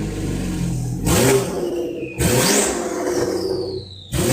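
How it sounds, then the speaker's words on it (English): A Ferrari 812 supercar with a V12 engine revs hard nearby in three sharp bursts. Each burst rises to a loud roar, then falls away into a whining, descending tone. No talking is heard. "Rev this thing. Go ahead, turn it on. Rev it."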